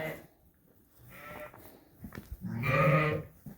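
Lambs and sheep bleat in a busy lambing barn, several overlapping calls rising to a loud, sustained bleat near the end, with quieter animal noise between.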